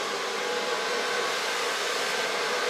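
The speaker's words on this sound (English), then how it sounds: "Blow drying with a large brush." A hair dryer blows steadily and loudly while hair is blow-dried with a large round brush, a continuous airy roar with no pauses.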